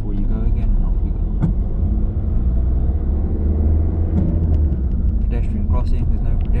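A car engine rumbles low and steady as the car pulls away on a driving mock test around Shirley, south Birmingham, with road noise inside the cabin and no voices heard.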